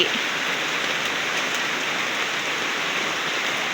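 Steady, dense hiss of rain falling without a break, even and fairly loud, with no voices.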